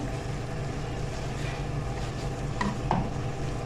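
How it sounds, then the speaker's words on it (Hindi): Ground coriander and cumin roast in a pan for a dhaba-style fried mash dal, a steady low sizzle with soft stirring scrapes and a couple of brief louder clinks near the end. "अब इन मसालों को अच्छे से भून लेंगे हम"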